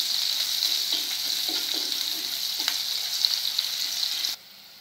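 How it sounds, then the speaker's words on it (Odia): Chopped onions sizzle in hot oil for a gravy of potol rasa (pointed gourd curry), a steady close hiss with faint stirring clicks, cutting off abruptly near the end. "ପ୍ରଥମେ ତେଲରେ କଟା ପିଆଜ ଦେବା। ପିଆଜକୁ ଲାଲ କରି ଭାଜିବା।"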